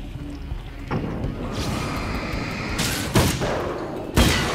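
Loud gunshot bursts ring out in the video game Alan Wake's American Nightmare, with three sharp blasts spaced a second or two apart over a rumbling, echoing backdrop.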